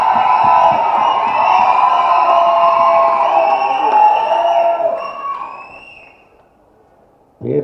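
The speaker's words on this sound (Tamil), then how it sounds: "பேரை சொல்லாமலே இவ்வளோ கைத்தட்டலாம்" An audience at a Tamil film audio launch cheers and applauds in a loud, dense roar that holds steady, then fades away to near silence before a voice cuts in at the end.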